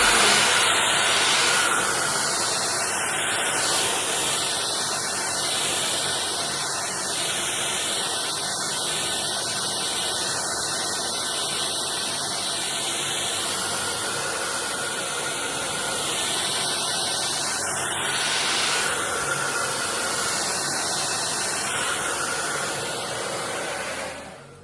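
A handheld hair dryer blows steadily while hair is styled at home, a loud continuous broadband whoosh that shifts slightly in tone as it moves, running alone throughout.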